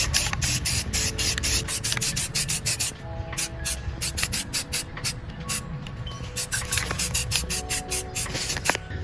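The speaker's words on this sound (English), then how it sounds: "roughly give the gun a light base coat, rough coating of the tan" Rapid short bursts of spray paint lay a flat sand base coat onto a rifle, a close hissing pulse with a brief pause partway through.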